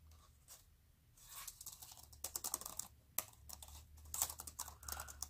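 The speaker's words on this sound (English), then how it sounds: "Doesn't hurt the fingers typing." Typing on a Sonkir wireless keyboard: quick, quiet, irregular key clicks that patter close to the mic, growing denser midway, with no talking.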